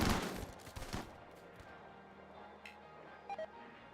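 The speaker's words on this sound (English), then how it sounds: "Their miniguns are doing work in that setup" Minigun fire from turret defenses in a colony-survival base-defense game, a dense burst of rapid gunfire at the start that thins into scattered, fainter shots, with a couple of short beeps near the end.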